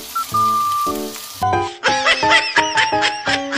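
Tomatoes sizzle and fry in a pan for adobong sitaw. The crackling hiss sits under loud tonal, laughter-like sounds that come in bursts.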